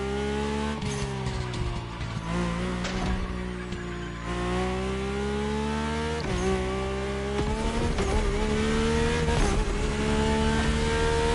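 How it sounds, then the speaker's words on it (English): Mercedes-AMG One hypercar engine in a racing video game, a loud continuous high-revving roar that rises and falls through gear changes, with some tire squeal and no talking. "the AMG 1 sounds a bit more aggressive than the CREW MOTORFEST and Forza Horizon"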